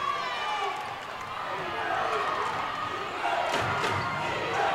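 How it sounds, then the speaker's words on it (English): Crowd noise at a California vs Mercyhurst college basketball game, a broad steady roar that swells toward the end, with a commentator talking over it. "The crowd is coming alive."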